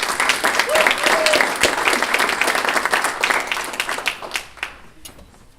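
Loud applause from a Chamber of Commerce breakfast audience welcoming a speaker, dense clapping that swells, then thins into scattered individual claps, with a little talk mixed in.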